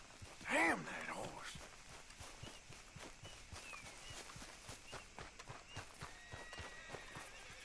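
Horse hooves clip-clop in a Red Dead Redemption game scene, a steady faint trot of light, even beats under low background sound, with a brief louder snort or whinny near the start.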